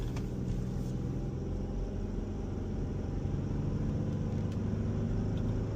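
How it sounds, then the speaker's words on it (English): A used car bought at auction on its first real test drive on the street: a steady, low engine rumble and road noise from inside the cabin, constant throughout with no clear revving. "First real test drive on the street."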